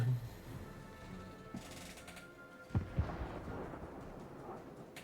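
Warship guns firing shells in a naval battle video game, the Moskva shooting at the Gdansk: two sharp booming shots close together over a steady rumbling game soundscape, no voices.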